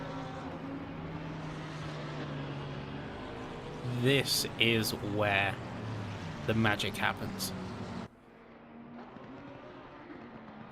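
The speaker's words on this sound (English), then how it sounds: "And as the cars roll on by," Race cars at Silverstone in a racing video game, a steady engine drone underneath as a voice talks over it, with several higher whining passes rising and falling before the sound cuts to a quieter hum.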